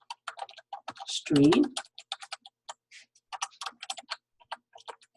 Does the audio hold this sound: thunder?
no